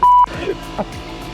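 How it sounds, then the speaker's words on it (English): A single loud electronic alarm beep sounds at the start, a short steady tone, then gives way to quieter background noise and a few faint bumps. "you did set an alarm"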